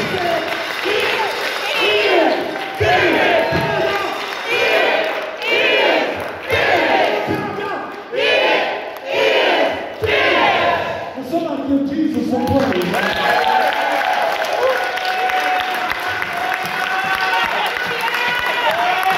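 A church congregation cheers loudly in waves of shouts and whoops, then swells into a sustained, dense roar of voices and clapping that carries on without letting up.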